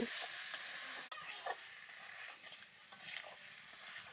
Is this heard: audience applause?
no